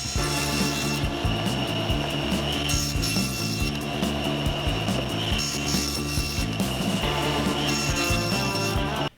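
Wooden boards are ripped to width on a saw in a home workshop, giving a continuous loud rasping, grinding cut that stays steady for several seconds before stopping suddenly.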